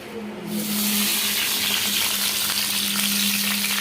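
Pumpkin peels fry in a generous pour of hot oil over raised gas heat, a dense, steady sizzle that swells in after a quiet half second and then holds loud and close.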